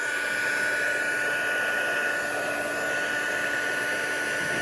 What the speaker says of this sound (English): And once it starts, then you can move your heat gun.